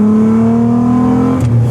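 A car engine holds a steady, loud, close drone at mid RPM, its tone even and sustained before shifting briefly as the revs change near the end.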